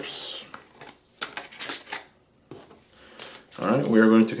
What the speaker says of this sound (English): we are going to continue shuffling here